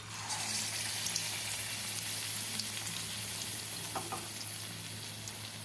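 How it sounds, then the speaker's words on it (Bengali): Batter-coated pumpkin flowers frying in oil make a continuous soft sizzle, with light bubbling and a couple of faint clinks from a utensil. "এরপর ব্যাটারে মিশিয়ে একে একে আমি ভেজে নেব।"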